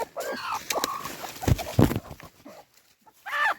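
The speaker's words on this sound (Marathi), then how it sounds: "ह्या गावठी कोंबड्या आहेत" Country hens cluck and squawk close by in short bursts while sitting on eggs near a banana plant, with a few clattering rustles and a brief voice between them.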